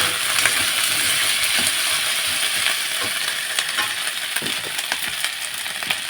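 Ginger and garlic fry in a pan with a constant hissing sizzle, dotted with small crackles and faint utensil clicks, no voices.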